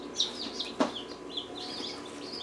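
Newly hatched chicks left inside a home incubator peep in faint, high, scattered chirps, a few sharper calls standing out over a soft background hum.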